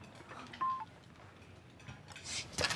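A telephone is dialed for a call: a few short electronic keypad tones, brief and fairly quiet, with soft handling noise between them and no talking.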